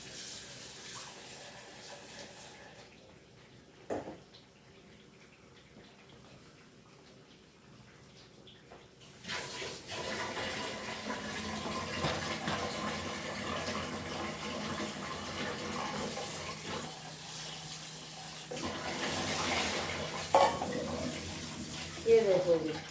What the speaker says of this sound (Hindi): ये कुछ प्याज मैंने धो के इसमें डाल दी।